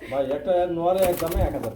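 Pigeons, including Lahori racers kept for sale, give a close, soft throaty coo with a rolling, wavering pitch, and someone talks nearby.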